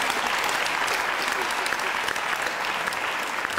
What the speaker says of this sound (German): Da so viel Beifall gibt